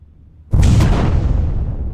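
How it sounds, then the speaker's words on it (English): A machine struck by a small flame blows up in a huge explosion: a sudden loud boom bursts in after half a second of near-quiet and leaves a dense, roaring rumble that fades only slowly. "And when it hits, it causes a huge explosion that practically destroys everything."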